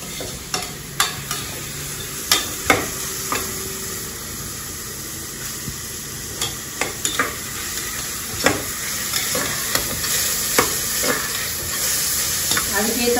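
Finely chopped carrots sizzle steadily in a pan while a utensil scrapes and stirs them in repeated sharp knocks, close and fairly quiet, over a constant hiss.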